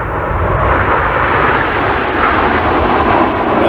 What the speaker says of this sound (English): The jet roaring across there.